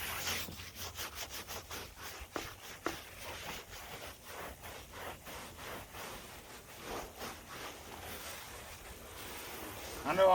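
A scrubber brush works over vehicle wheels wet with degreaser, making a rhythmic series of close, rasping bristle strokes, quick at first and then steadier, with some talking faintly underneath.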